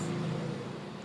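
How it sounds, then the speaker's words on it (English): A car passing outside during an afternoon indoor painting session, a steady, fairly loud broadband rumble that holds for about a second with no talk over it. "Oops, that was the car."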